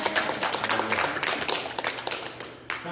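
A congregation in a theological university chapel gives warm, sustained applause that rises and thins near the end, with a faint voice coming in at the close.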